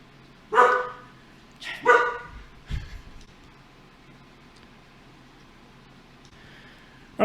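A five-month-old mixed-breed dog barks sharply three times in quick succession, fairly close and loud, then falls quiet before another bark begins at the very end.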